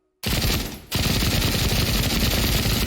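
Automatic weapon fire in a VR first-person shooter game after a reload: a loud, rapid, continuous burst of shots, broken by a short pause, then firing again steadily to the end.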